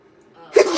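A single sharp sneeze bursts out near the end after a quiet lead-in, close and loud, indoors during a live home broadcast.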